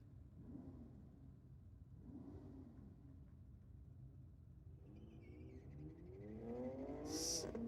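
A BMW drag car launches on a solo run at a Sydney drag meet, its engine rumble heard at a distance and building into a rising revving whine over the last couple of seconds.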